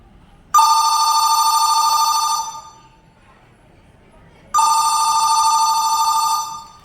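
A telephone bell rings in two long, loud electronic trills separated by a silent gap, close and clear with no talk over it.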